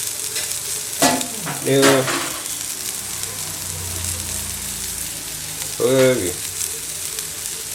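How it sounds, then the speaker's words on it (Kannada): Soya chunks frying in a pan give a steady close sizzle, broken by a couple of louder scraping stirs, with a few brief spoken words. "ಸೋಯಾ ಫ್ರೈ ಮಾಡ್ತಾ ಇದ್ದೇನೆ, ಆಗ್ತಾ ಉಂಟು."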